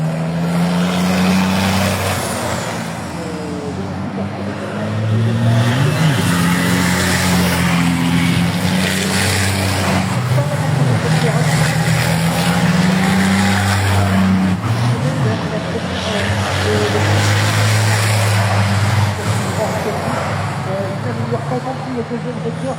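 Racing trucks lap the track in a truck racing qualifying session, engines droning loud and continuous with shifting pitch and occasional tire noise, under steady commentator talk throughout.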